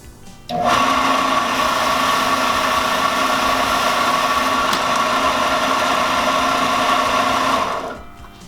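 A belt sander used for sanding a puppet foam shape starts up after half a second and runs with a steady, loud, even motor drone before winding down near the end.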